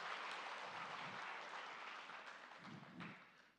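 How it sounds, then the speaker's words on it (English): A crowd at a forum applauds steadily for several seconds, a dense wash of clapping heard from a distance and tapering slightly at the end. "A round of applause for Konstantina, please."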